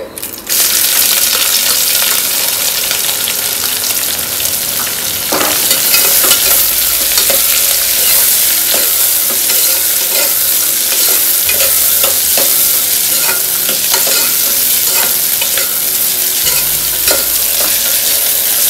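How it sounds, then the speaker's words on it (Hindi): Onions with spices frying in oil for pea pulao, a loud, dense, crackling sizzle that runs throughout, with repeated clinks and scrapes of a spoon stirring in the pan. "अच्छी तरह से फ्राई करते हैं अनियन को"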